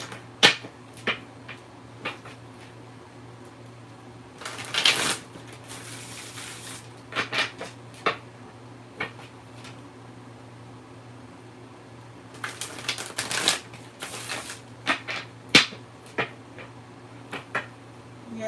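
Tarot cards being shuffled by hand in irregular bursts of crisp riffling and tapping, with short quiet gaps between bursts and a steady low hum underneath.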